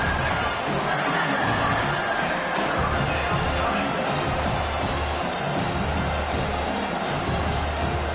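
Football stadium crowd roaring steadily behind the defense on third down against Penn State, a dense, sustained wall of cheering and shouting that swells and holds for several seconds.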